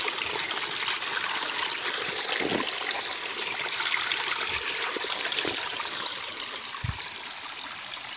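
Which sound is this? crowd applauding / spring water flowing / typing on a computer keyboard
spring water flowing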